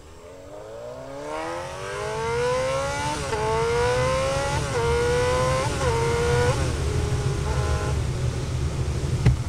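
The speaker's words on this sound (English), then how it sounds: "all I'm doing there is just, I'm shifting at a very select point to get the desired amount of acceleration" A car engine revs up through successive manual gear shifts, each rising whine dropping sharply at the shift before climbing again, growing louder and steady with no talk.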